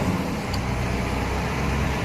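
A truck rolls in at a container depot, its engine a steady, close rumble with road noise and no voices.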